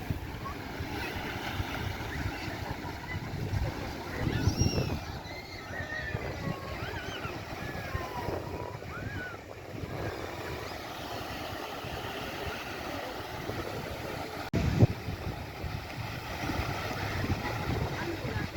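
Blustery seaside wind on an Italian promenade in summer rushes and buffets the microphone continuously, with a low rumble and faint voices carried in the open air.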